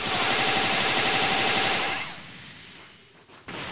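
A rapid stream of missile shots from the Die Missile Barrage attack in Dragon Ball Xenoverse 2 fires loud and dense for about two seconds, then cuts to a faint tail and a final short burst, with no talking.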